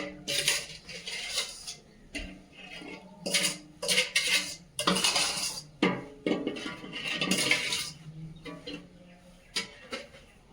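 A wok is scrubbed with mango leaves and sand, giving close irregular gritty scraping and metallic clatter in uneven bursts.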